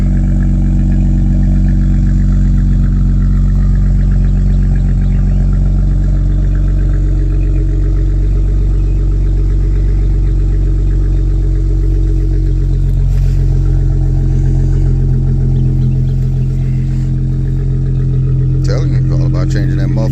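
A car engine with a modified aftermarket muffler exhaust idles with a deep, steady rumble, swelling briefly into revs, loud and close, with someone talking over it at times.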